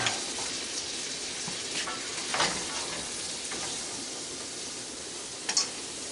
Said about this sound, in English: I've got some bell pepper and onion here. I like to saute that stuff first.